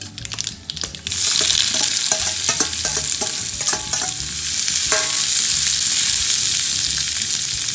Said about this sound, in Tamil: பாருங்க, வெங்காயம் நல்லா வதங்கிடுச்சு